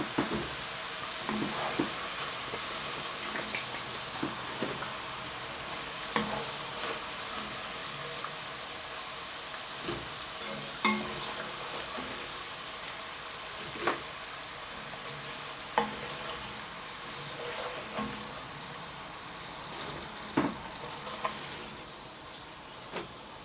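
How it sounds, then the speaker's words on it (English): Steady crackling sizzle of British-style chips frying a second time in hot oil, with sharp pops and spits scattered throughout, close and continuous. "we're just browning these up and frying them for a second time"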